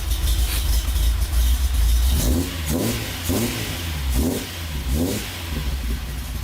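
Nissan Z car with a newly fitted exhaust, heard up close as it idles with a steady deep rumble and then gets several sharp revs that rise and fall in quick succession.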